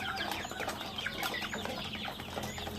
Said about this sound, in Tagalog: Ito yung Rhode Island Red ko na magto 2 months na to sila mga tropa